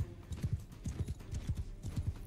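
Horse hooves in the medieval combat game Mount and Blade 2 Bannerlord, a rhythmic clip-clop of a mount moving at pace, paired hoofbeats repeating evenly and close for a couple of seconds.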